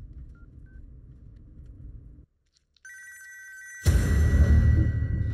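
A few quick telephone keypad beeps sound, followed by a steady electronic tone and then a louder ringing burst, with a low rumble before them.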